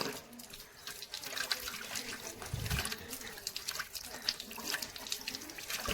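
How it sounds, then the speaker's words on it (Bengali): Hands are washed under a running tap at a sink, the water trickling and splashing softly and faintly throughout, with quiet voices in the background. "আসো আসো তোমার হাতটা ধুয়ে দিই।"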